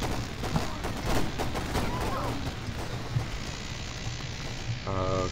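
Shotgun gunfire in a video game, heavy blasts mixed into continuous loud game combat noise and rumble, with a person speaking briefly over it.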